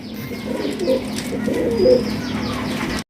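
Pigeons coo in soft, repeated low calls close by, with a few faint chirps mixed in over a steady background hum.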